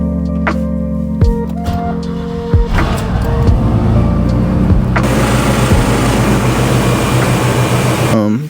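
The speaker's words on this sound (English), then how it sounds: "Truck started." An old, neglected Chevy truck engine cranks over and catches, then settles into a loud, steady running roar with a broad hiss that continues close by until it cuts off at the end.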